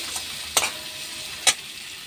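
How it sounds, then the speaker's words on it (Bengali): Spice masala fries in a pan for jackfruit kofta curry under a soft steady sizzle, with two sharp scraping strokes of the stirring spoon and a faint tap. "আর একটু নুন দেবো, দিয়ে এটা আমি ভালো করে কষে নেব।"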